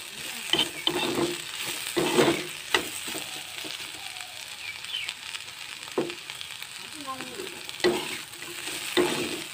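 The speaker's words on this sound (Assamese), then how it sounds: "লৰাই লৰাই ভাজি থাকিম।" Potatoes and pointed gourd being stir-fried in a pan, with a steady low sizzle and repeated scraping strokes of a spatula against the pan at an irregular rhythm, close and moderately loud.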